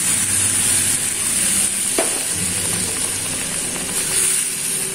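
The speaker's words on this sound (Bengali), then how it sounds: "মশলা আমার কষে গেছে, এবার একটু আমি জল দিয়ে দিচ্ছি।" Water poured onto sizzling fried masala in a pan, a loud continuous hiss and sputter with one sharp clink near the middle, no talking.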